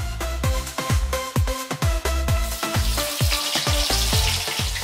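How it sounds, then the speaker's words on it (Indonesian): Thin slices of getuk cassava, already sun-dried, crackle in hot oil with a loud, busy run of sharp pops and spitting, steady from start to end. "irisan-irisan tipis ini dijemur lalu digoreng"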